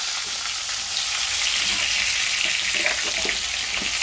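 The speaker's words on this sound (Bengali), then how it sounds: "ফোড়নটা রান্না করে দিয়ে আমি টমেটোগুলো দিয়ে দিলাম।" Tomatoes frying in hot oil with tempering spices and whole bay leaves, a loud, steady hiss of sizzling heard close up with faint stirring movements underneath and no voices.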